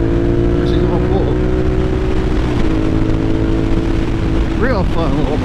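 A Suzuki SV650 motorcycle engine hums steadily on the road, with a downshift and sharp rising revs toward the end as it accelerates hard. Constant wind-like roar sits under the engine.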